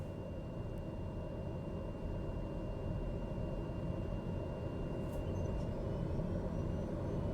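An airplane in a flight simulator game taxis to parking, giving a steady low engine drone with a faint thin whine held constant throughout, and no one speaks.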